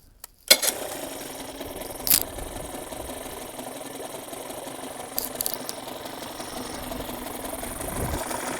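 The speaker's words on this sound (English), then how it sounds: "Got it idling down quite a bit." A 1989 Evinrude 30 HP outboard motor runs at a steady low idle after carburetor cleaning, a close, even mechanical putter broken by a few sharp clicks and knocks.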